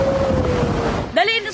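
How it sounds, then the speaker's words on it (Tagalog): Storm surge waves pound the shore at Legazpi, Albay during Super Typhoon Pepito, a loud, continuous roar of churning water and wind. A steady tone runs through it, and a short voice rises near the end. "Nagngangalit din ang alon sa Legazpi, Albay kaninang umaga."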